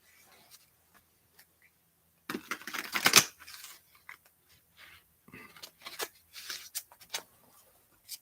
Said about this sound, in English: I guess these weren't shuffled too good, so I'm gonna redo this